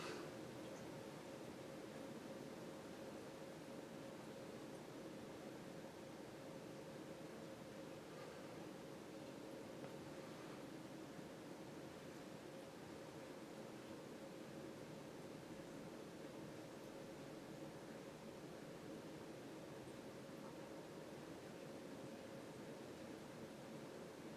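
A steady, even motor hum from a Fasco Olde South ceiling fan with a faint dry scratching texture from its bearings runs without pause, close and constant, with no voices.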